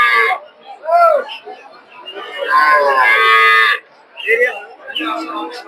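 Cattle at a rural livestock market in Puthia, several loud nearby moos in succession, with crowd chatter behind them.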